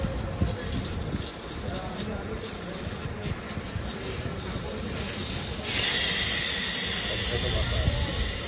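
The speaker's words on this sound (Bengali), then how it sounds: "এটা খুললে গ্যাস বেরিয়ে যাবে।" Gas rushes out of an opened gas charging pipe valve as a broad, steady hiss under background noise, growing noticeably louder and brighter partway through and then holding at that level.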